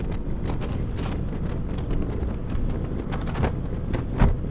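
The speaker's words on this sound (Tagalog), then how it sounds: "sobrang lakas ang hangin." Strong wind buffets the microphone during a motorcycle ride on a Benelli Panarea 125 near San Jose, Batangas, a steady low roar with gusty bursts throughout.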